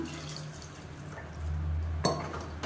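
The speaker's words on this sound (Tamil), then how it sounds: "இப்போ இதில் தண்ணி சேர்த்துக்கலாம்" Water being added to a pot of simmering Tamil-style fish curry (meen kuzhambu), a short close pour with a clink of the vessel against the pot, quiet kitchen background.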